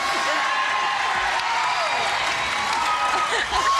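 Studio audience of a 1984 television game show screaming and applauding, a dense, loud, continuous wash of clapping and shrill cheers that fills the whole stretch without a break.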